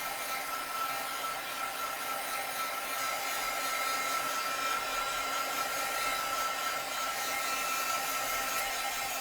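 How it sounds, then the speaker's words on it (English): A craft heat tool blows a steady, loud whooshing stream of hot air at an art journal page, unbroken throughout with a faint whine riding on top and no voices. "I don't know if you can hear me when the heat tool's on."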